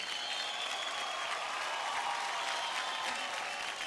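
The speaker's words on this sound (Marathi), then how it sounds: "वा, जोरदार टाळ्या होऊन जाऊ द्या." Audience applause at a televised dance competition show, dense and continuous clapping from a crowd, steady throughout without a break.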